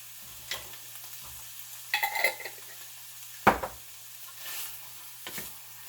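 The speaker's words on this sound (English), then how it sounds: "Now I'm going to add in a half of an onion" Half a purple onion and some yellow onion fry in a pan, giving a soft, faint sizzle with a few scattered stirring scrapes and clinks.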